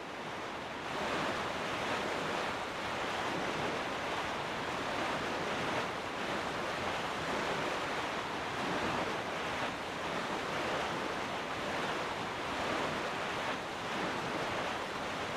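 Sailing across the open sea in Zelda: Wind Waker brings a continuous wash of wind and rolling waves, a steady, fairly quiet broadband rush with no talk.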